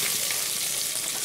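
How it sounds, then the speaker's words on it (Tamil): Onions sauté in a pan in Tamil home cooking, giving a steady, close sizzling hiss with faint stirring and no talk. "நல்லா வெங்காயத்தை வதக்கி விட்டுப்போம்."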